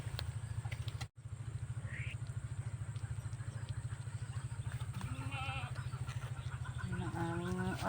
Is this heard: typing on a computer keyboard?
no